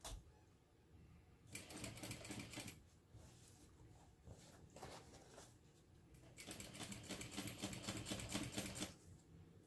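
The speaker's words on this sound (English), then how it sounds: "here you'll want to top stitch along that seam" A sewing machine top stitching along a seam at a long 4.5 stitch length, running in two sustained bursts with quieter pauses between, close and fairly faint.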